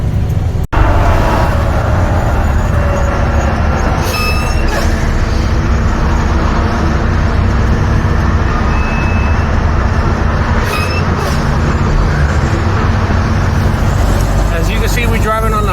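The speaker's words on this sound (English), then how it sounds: "See, we're driving on the highway." Semi truck hauling a shipping container drives along a highway, its engine and road roar forming a loud, constant rumble from the cab, with occasional faint squeaks and a voice speaking over it.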